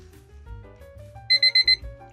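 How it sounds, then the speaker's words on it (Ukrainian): A digital alarm clock on an indoor-outdoor thermometer beeps in four quick, loud bursts over a quiet background of faint electronic tones. "чекаємо, коли задзвонить будильник"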